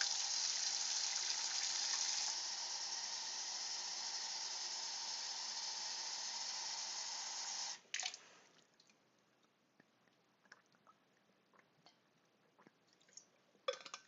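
Tap water gushes steadily into a water bottle for several seconds, close and loud, then cuts off, leaving scattered drips and small handling noises.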